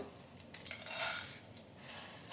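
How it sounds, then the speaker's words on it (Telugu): Sorghum grains scattered into a well-heated pan for roasting make a sharp metallic clatter, then a brief rattling patter and a softer tap, fairly faint and close, with no talking. "నెక్స్ట్ ఇలా కొంచెం జొన్నలు అయితే వేసుకుందాము"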